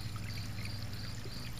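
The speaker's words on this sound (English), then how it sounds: "With the water coming in constantly over here." Water pours steadily into a bell siphon in a grow bed, a soft continuous trickle and splash heard close up with no talk.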